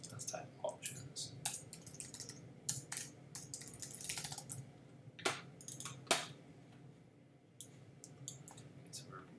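Rapid, uneven clicking of keys on a computer keyboard, close and fairly faint, with irregular bursts and short pauses while someone writes code.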